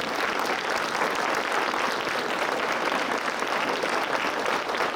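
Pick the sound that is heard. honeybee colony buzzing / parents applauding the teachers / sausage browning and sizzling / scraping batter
parents applauding the teachers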